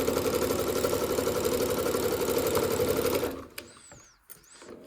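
A sewing machine stitches a quilt block seam, running as a fast, steady mechanical whir and knock that stops abruptly after about three seconds. Faint handling clicks and light rustles follow in quiet, close by.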